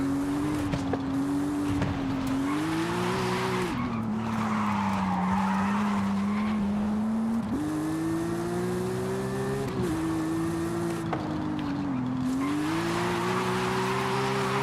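Car tires skidding and squealing while drifting in Forza Horizon 5, a loud sustained engine drone rising and falling in pitch, with long tire screeches layered over it.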